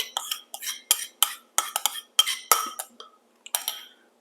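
Spoon or utensil clinking against a bowl while pizza dough ingredients with seasoning and yeast are stirred, a steady series of sharp, close taps and scrapes in an otherwise quiet kitchen.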